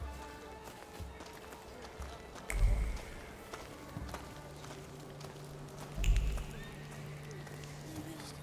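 Hooves of a galloping horse in The Thaumaturge pound steadily at a quick, even rhythm, with two heavier thuds standing out and a low ambient drone underneath.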